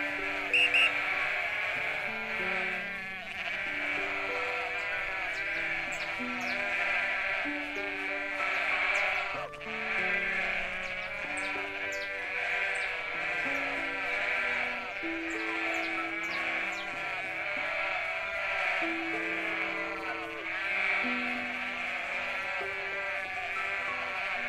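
Sheep on a farm in the video game Everdream Valley, bleating over and over in overlapping calls at close range, sounding against a constant light musical background.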